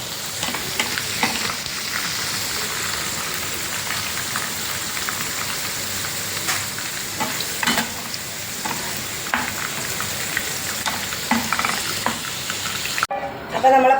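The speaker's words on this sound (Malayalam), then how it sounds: "പാവയ്ക്കെല്ലാം നമ്മൾ വറുത്ത കോരി എടുത്തിട്ടുണ്ട് രണ്ട് പാത്രത്തിലായിട്ട്" Bitter gourd slices deep-frying in hot oil for pickle give a steady, dense sizzle with crackling bursts throughout, close and continuous, with a brief change in texture near the end.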